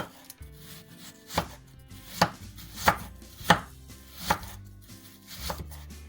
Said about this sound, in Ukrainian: Тепер нарізаємо червоної цибульки